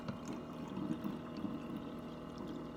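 Kombucha tea is poured through a funnel into bottles, a soft continuous trickling and gurgling of liquid, quiet and close with no talk.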